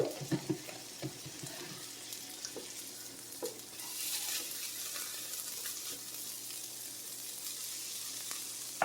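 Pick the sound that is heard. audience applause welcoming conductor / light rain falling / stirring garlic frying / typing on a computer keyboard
stirring garlic frying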